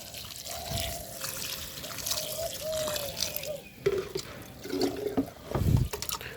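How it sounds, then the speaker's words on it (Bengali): Water poured from close by into potting soil in a lotus pot, trickling and gurgling steadily with a few splashier pulses toward the end. "তো আমি এর মধ্যে জল দিয়ে দিচ্ছি।"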